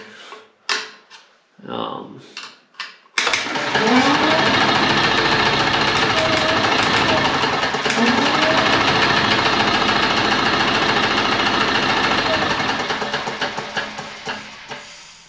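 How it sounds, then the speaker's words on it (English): A neglected Onan generator's small engine cranks over loudly and continuously for about ten seconds via its generator winding, a rapid rhythmic churning that slows and fades, after brief voices and clicks; it seems low on compression. "it uses a winding in the generator in order to turn the engine."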